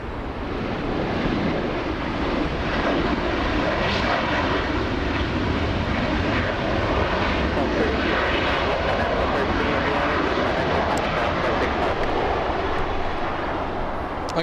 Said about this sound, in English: Dreamliner taxiing in front of the company